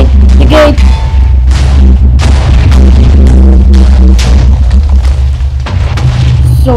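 Bomb explosions in the video game Minecraft, a rapid barrage of loud, deep booms and bursts overlapping one another, with some faint talk.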